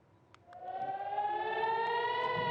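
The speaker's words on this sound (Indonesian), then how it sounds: "Sirene pun terus berbunyi tanpa henti saat rudal memasuki langit kota Naharia" An air raid siren in Nahariya wails during a rocket attack, rising into a steady, far-off tone, faint but clear, with no voices.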